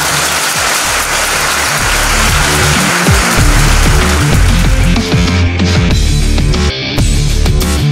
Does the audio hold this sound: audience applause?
yes